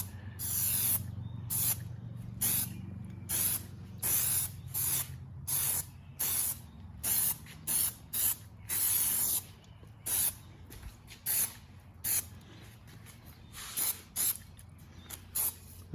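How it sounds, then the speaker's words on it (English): Repeated short bursts of aerosol spraying onto sun-damaged car window trim from about 6 inches away, about a dozen sharp hisses in an uneven rhythm, close by, with quiet gaps between them. "Now you always want to spray about 6 inches away."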